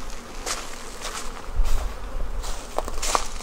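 Honeybees buzz around a beekeeper's hive after a swarm, a faint, scattered drone with individual insects flying close past, plus light handling noises nearby.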